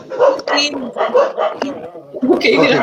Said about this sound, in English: can you hear a lot of dogs?